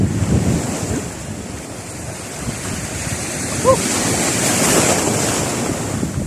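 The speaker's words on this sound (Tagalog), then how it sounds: "Malaki po yung alon po." Waves wash and churn continuously amid gusting wind buffeting the microphone, with the rushing surf loud and close.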